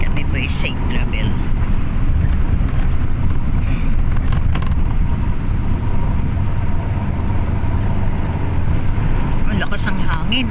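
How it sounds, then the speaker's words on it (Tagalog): Strong wind howls over heavy rain on a flooded road, making a steady, dense roar with microphone buffeting that lasts the whole time and never lets up. "Ang lakas ng hangin, oh."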